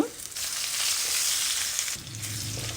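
Curry leaves fry crisp in hot oil alongside crushed cumin and garlic, producing a close, continuous sizzle that eases off briefly near the end.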